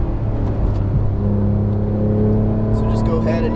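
Porsche 911 GT3 (991) engine droning steadily on a cool down lap at Exotics Racing, a constant in-car hum with gentle revving and an upshift, a voice talking over it throughout.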